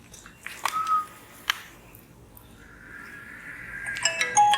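Children blow air across their hands as if whistling, producing a few faint, breathy whistle tones: short separate bursts, then a longer airy rising whistle near the end in a quiet room.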